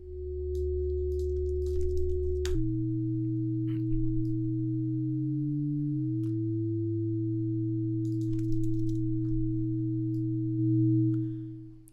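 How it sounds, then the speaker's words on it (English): Two steady sine tones from ring modulation in Max/MSP, the sum and difference sideband frequencies, hold for twelve seconds, with a pitch shift near the start and brief gliding bends midway, clean and continuous. "So we are only hearing the sum and difference tones. We are only hearing the sideband frequencies."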